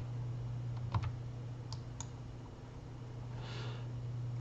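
Quiet computer mouse clicks while working in SolidWorks, a few isolated sharp taps against a steady low electrical hum and faint room noise.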